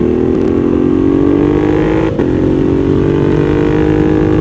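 A Ducati Monster 1200 under way on the road, its engine droning loud and steady close by with a slowly rising pitch, plus a brief dip around the midpoint.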